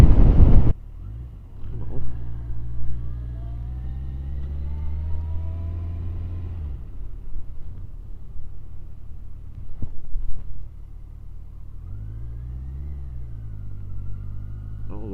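A Yamaha FJ1200 motorcycle, somewhat worn from past drops, swinging through a U-turn, its engine idling then rising through a couple of revving pulls and easing off, heard fairly close and alone.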